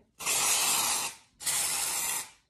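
Two long, loud hissing bursts of Batiste dry shampoo from an aerosol can sprayed onto hair, each lasting about a second, separated by a short pause and heard close with no talking.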